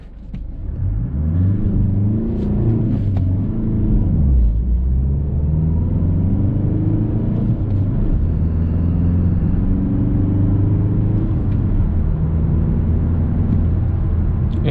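Mazda 6 CD150 Revolution 2019 with a manual gearbox accelerating from rest to 100 km/h on a night drive, heard from inside as a steady loud engine drone with rising pitch sweeps through each gear and brief dips at the shifts.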